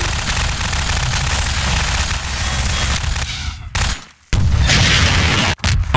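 Rocket explosions in a Half-Life 2 Deathmatch match, loud continuous blasting and gunfire that drops out briefly twice before roaring back, dense and close.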